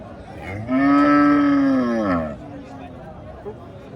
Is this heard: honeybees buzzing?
no